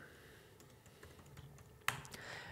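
Faint keystrokes on a computer keyboard while code is being written, a few soft taps followed by one sharper key click near the end, over low room hiss.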